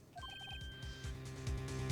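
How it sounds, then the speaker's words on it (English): A short electronic phone ringtone from the video game Phoenix Wright: Ace Attorney, a quick run of bright beeping tones at the start, followed by a low rhythmic pulsing game soundtrack underneath. "I heard a phone ring just now. One of those newfangled ringtones."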